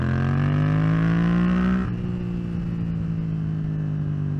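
A 2022 Yamaha MT-07 motorcycle with a loud aftermarket exhaust, revving hard and close with a strong buzzing tone that drops off sharply partway through into a lower, steady idle rumble.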